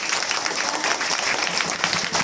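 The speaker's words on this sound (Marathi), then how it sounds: "जोरदार टाळ्या वाजवा" Audience applause at a devotional kirtan gathering honouring a Maharaj and young boy Warkari performers, a steady dense wash of clapping running loud and continuous throughout, with no voices standing out.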